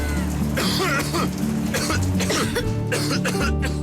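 Someone coughs several times in a short burst inside an Indonesian TV advert for a herbal cough medicine, the harsh coughs ringing out over a steady low background of music.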